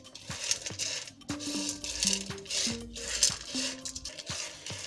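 Popcorn kernels tumble into a pan of salted oil, a scatter of small hard clicks and pings bouncing off the metal in quick irregular bursts, close and fairly quiet.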